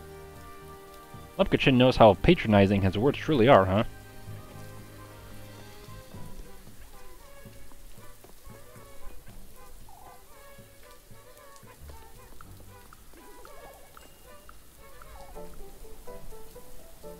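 Steady rain falls in a video game (Little Goody Two Shoes), a soft constant patter that continues beneath a brief spoken line and some quieter game sounds.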